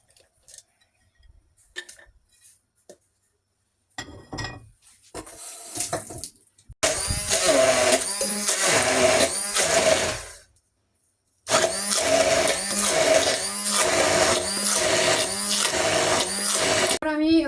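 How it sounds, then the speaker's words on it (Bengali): An electric kitchen blender grinds two dried chillies, ginger and garlic into a paste, running in two loud, steady bursts of whirring motor noise separated by a short pause, after some lighter clattering at the start. "এগুলাকে আমি ভালো করে পেস্ট করে নেব ব্লেন্ডারে।"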